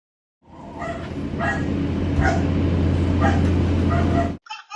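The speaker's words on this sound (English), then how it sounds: "some dogs barking" Several dogs bark in a busy, repeated pattern over a steady low fan-like hum, picked up by a Jabra Speak 510 speakerphone about seven feet away; the barking moderately loud and somewhat distant.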